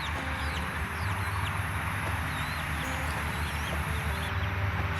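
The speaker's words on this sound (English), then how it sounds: "She still has 6 chickies. She's very feisty whenever I go over there by them." Nearby, a hen clucks softly and steadily among her six chicks, who cheep in thin, high peeps, over a constant low hum of background noise.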